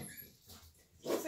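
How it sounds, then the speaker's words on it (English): A puppy gives a short high yap near the end after a moment of quieter noises, close by and fairly loud. "So y'all might hear the puppy yapping."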